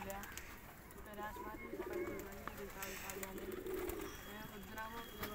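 Pigeons in a loft coo in low, repeated throaty phrases, two clearer bursts standing out over a steady background hum and scattered small noises.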